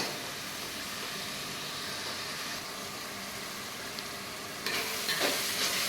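Onions sautéing in a pan for biryani, a steady close sizzle and hiss with a brief stir or clatter near the end, no talk.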